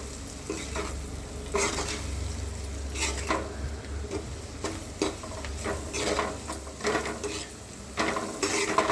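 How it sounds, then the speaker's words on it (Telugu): A spoon stirs half a spoon of chilli powder into a dish frying in a pan, with repeated scraping strokes over a steady sizzle, close and fairly loud, no talking. "ఇప్పుడు చక్కగా కలుపుకోవాలి."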